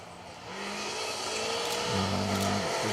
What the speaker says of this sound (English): now we do have another car though coming into view